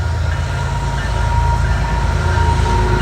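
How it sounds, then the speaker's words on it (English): A passing train heard from the far side of a park property near its entrance: a steady, loud rumble of rail cars with a continuous low roar and faint metallic tones, with no talking. "Train coming by, guys."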